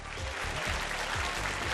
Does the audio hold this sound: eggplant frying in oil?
no